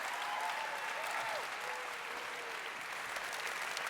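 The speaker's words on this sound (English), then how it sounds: "give a big round of applause for our judges here, Anna, Lauren, and Vic" Steady, fairly faint applause from a convention audience at a cosplay contest, continuous clapping from a crowd heard at a distance with no talk over it.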